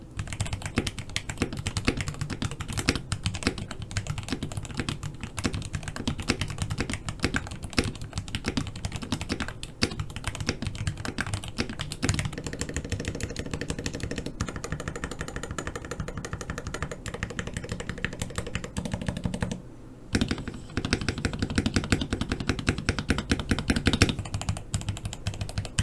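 Continuous fast typing on a custom-built mechanical keyboard with lubed switches, dense clacky keystrokes with deeper thocks from larger keys, close and steady, with one brief pause near the end.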